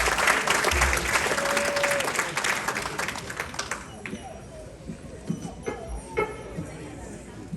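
Applause from an audience at a live radio session in Grand Marais, Minnesota, greeting the band, with dense clapping for about four seconds before it thins out into scattered claps and murmuring voices.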